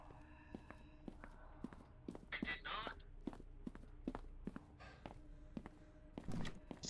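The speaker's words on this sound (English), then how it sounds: "All I heard was footsteps running towards me" Running footsteps in the ghost-hunting game Phasmophobia, a rapid series of sharp thuds and taps approaching through a quiet interior, with brief speech-like bursts and rustles mixed in.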